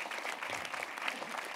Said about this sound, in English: So Sienna from New York, can we give you an extra applause for coming over extra for this campaign?